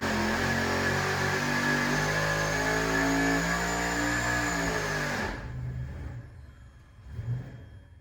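A small-block Chevy V8 on an engine dyno screams at high, sustained revs up toward 7,000 RPM, loud and close, then drops off sharply and winds down to a low idle rumble.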